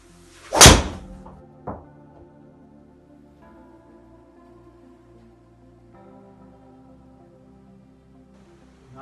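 A golf club strikes a ball, the player wearing spiked FootJoy Pro SL golf shoes; one sharp, loud impact near the start, a smaller knock a second later, then near silence.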